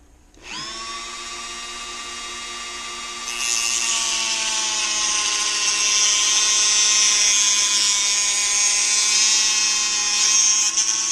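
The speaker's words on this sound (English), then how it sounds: "Fancy ass Dremel." A Dremel rotary tool spins up with a sharp click and a high steady whine, then climbs to a louder, denser cutting pitch as it bites into a steering-wheel part during a control retrofit on a 2005 Mustang, close and continuous with no speech.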